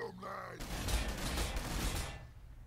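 Gunfire from the Warhammer 40,000: Sanctus Reach strategy game, heard as a dense burst of blasts and rumble lasting under two seconds, coming right after a brief voice.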